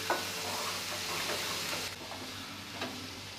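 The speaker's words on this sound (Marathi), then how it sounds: "बारीक चिरलेली फरस भी घालूया" Finely chopped French beans sautéing with spices in a pan for a Maharashtrian thali, a faint, even sizzle with soft scraping stirs and small clinks, no voices.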